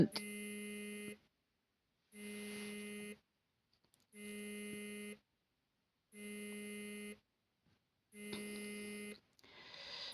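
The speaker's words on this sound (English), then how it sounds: "And now my phone is beeping" An electronic beep tone sounds five times in a steady pattern, each about a second long with equal pauses, fairly loud and close.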